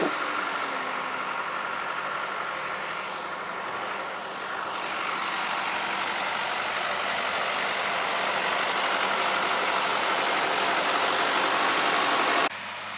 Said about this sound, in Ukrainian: Працює компактор Беднар 8420, джундір.